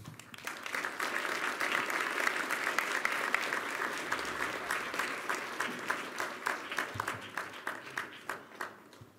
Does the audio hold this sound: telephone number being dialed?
no